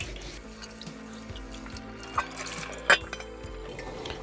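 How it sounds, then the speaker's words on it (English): A de Buyer carbon steel pan is scrubbed under a running tap, with steady water flow, rhythmic rubbing strokes and a few sharp clinks of metal against the sink. "Now I have a scrubber here. I'm going to use this and scrub it."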